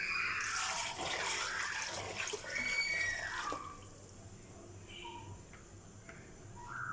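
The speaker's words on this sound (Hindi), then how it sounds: "इसमें अपनी यखनी ऐड करेंगे और फ्लेम को हाई पे कर देंगे" Liquid yakhni broth poured into a cooking pot for pulao, a splashing, trickling pour for a few seconds that then fades into quieter bubbling and faint drips.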